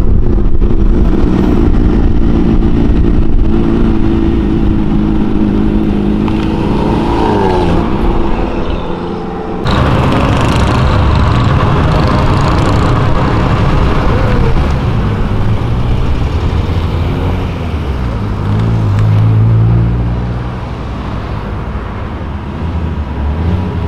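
A green Ford Mustang accelerating on a street, a rumbling engine swelling and roaring past amid steady road and traffic noise, then fading away.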